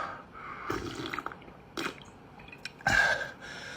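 Water being sipped and slurped in a few short wet gulps with drips and squishy mouth noises, close and fairly quiet with pauses in between.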